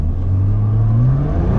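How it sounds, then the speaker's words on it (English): A Nissan GT-R accelerates at full throttle from first gear, its engine note rising in a strong, close, continuous roar with a climbing pitch, heard alone without talk. "Jack recommended that we kind of do a full throttle run from first gear"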